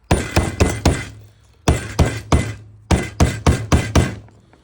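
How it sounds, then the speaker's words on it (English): A mallet strikes a chisel against the back glass of an iPhone 12 Pro Max, sharp close cracking blows in three quick bursts of four, each with a brief crunching decay. "Hammer away."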